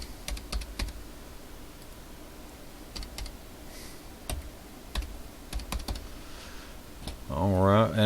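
Keystrokes on a computer keyboard as a password is typed while setting up an OpenWrt router: scattered quick clicks in short bursts, fairly close. A voice briefly sounds near the end.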